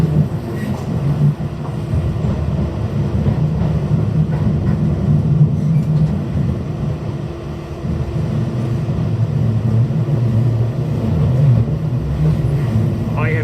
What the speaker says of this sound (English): I am now on the train between Devonport and Newmarket